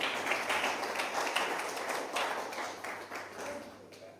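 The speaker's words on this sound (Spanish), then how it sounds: "Una de palmas al Señor con todo corazón." A church congregation claps together for the Lord, a dense run of overlapping hand claps at steady strength that fills the room for a few seconds without a lead voice over it.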